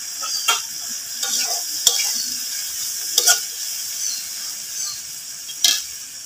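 Green chilies fry in a pan during village cooking of a fish and bean dish. The sizzle is steady, with close scraping stirs and occasional sharp knocks of the utensil.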